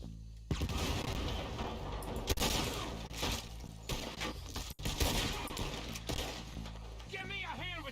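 Gunfire from Red Dead Redemption during a shootout, repeated sharp shots and cracks scattered irregularly over a busy mix of game sound, with a voice speaking in between.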